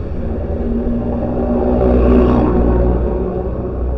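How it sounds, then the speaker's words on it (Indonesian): A sand truck rumbles past on a dark night road, a steady low drone that swells toward the middle and then eases off, with no voices over it. "Mobil pasir."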